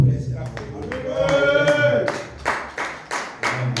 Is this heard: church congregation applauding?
yes